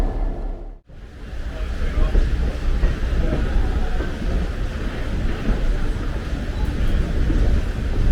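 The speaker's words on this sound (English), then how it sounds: "this is the inaugural run of the river train from Phillipsburg to Riegelsville" The River Train excursion train runs from Phillipsburg to Riegelsville on its inaugural trip, a steady, loud rumble of rolling rail cars heard close by, broken only by a brief dropout near the start.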